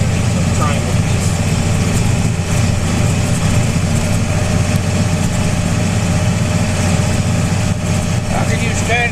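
A tractor engine idles outdoors in cold weather, a loud, close, steady mechanical drone that holds unchanged throughout.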